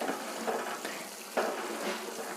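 Sugar syrup for rava laddu bubbling and boiling in a pan, a soft continuous hiss with gentle surges of bubbling.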